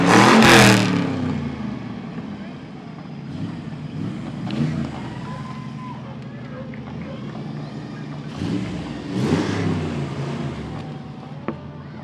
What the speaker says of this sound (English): They have 4 antique fire engines.